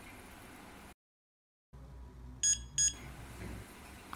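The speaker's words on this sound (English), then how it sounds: "After hearing the sound of beep" Two short electronic beeps, confirming a program download from a phone app, sound in quick succession over faint background hiss, after a brief silent gap.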